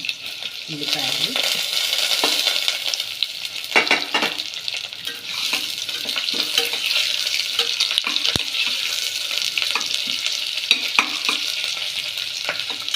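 Onions for palak rice fry until brown in a pan, giving a steady loud sizzle for the whole stretch, broken by scraping stirs and an occasional metallic tap of a spoon.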